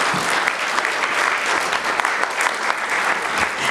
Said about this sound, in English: let's give our honorees another round of applause